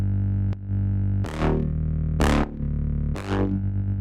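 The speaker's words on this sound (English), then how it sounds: "which is a serum bass." A heavy, buzzing bass made in the Serum synth drones continuously, with three bright filter sweeps opening up at regular intervals before a softer close.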